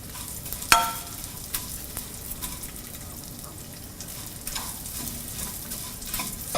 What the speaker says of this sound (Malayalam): അവൽ ക്രിസ്പിയായി വരുന്നത് വരെ ഫ്രൈ ചെയ്യണം.